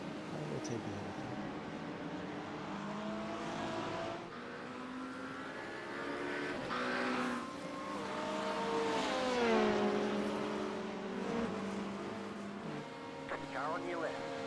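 Race cars lap Daytona during the 24-hour event in the iRacing video game, with several engines droning and sweeping up and down in pitch as traffic passes, steady and fairly loud under a talking voice.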